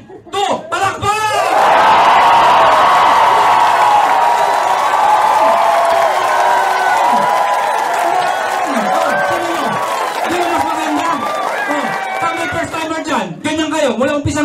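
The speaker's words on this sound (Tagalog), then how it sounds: "Lahat papalakpak ha? 1, 2, palakpak!" A large crowd cheers and shouts loudly and continuously, with scattered clapping and voices mixed throughout; the clapping is not clearly in unison.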